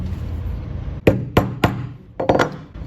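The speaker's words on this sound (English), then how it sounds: "I can use these to hammer this right down." Small nails are hammered into a wood block: five sharp, distinct taps, three spaced evenly and then two quicker ones, sounding close and loud over a faint low background rumble, with no talking.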